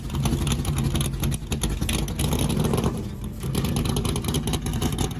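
A 1969 Ford Torino Talladega V8 engine rumbles loud and close, a throaty, uneven roar that holds steady with slight surges throughout.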